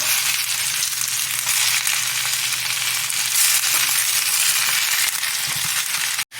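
Browned fondant potatoes being turned over in hot oil in a pan give off a loud, continuous sizzle, cut off by a sharp clunk near the end.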